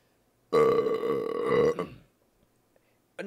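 A single long, loud, croaking burp lasting over a second, then quiet with a faint clatter and a short sound starting at the end.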